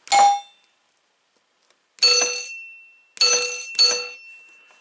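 Four bright metallic bell dings from a Williams Little Chief pinball machine, each ringing briefly and fading, cut short by bad washers; spaced unevenly with silence between; no voices.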